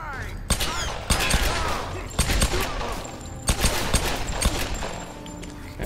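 Rapid bursts of gunfire in the Tomb Raider video game, with repeated sharp shots fired at an enemy in close succession, loud and continuous across the clip.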